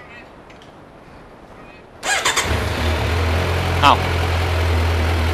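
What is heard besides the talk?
motorcycle engine starting and idling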